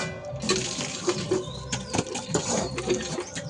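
Something being washed under running water: a steady close splash and trickle with irregular sloshing and faint knocks as items are rubbed and handled, fairly quiet and continuous throughout.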